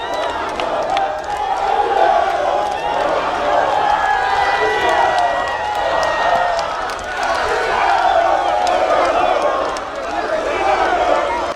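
A large crowd of political supporters massed along a street outside roars and cheers continuously, with shouts, whoops and scattered clapping blending into a loud, dense wash of voices.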